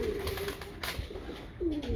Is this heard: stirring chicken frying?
no